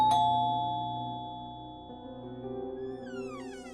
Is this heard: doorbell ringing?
yes